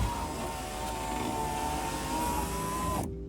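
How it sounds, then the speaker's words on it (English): Old original-equipment passenger window motor in an E30 running steadily with a continuous electric whine and mechanical hum, close and moderately loud, cutting off abruptly near the end. "we actually tested the window motors, and passenger window motor works."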